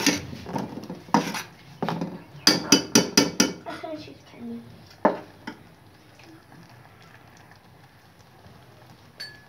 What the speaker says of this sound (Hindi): ऐसा हम चम्मच को हिलाते जाएंगे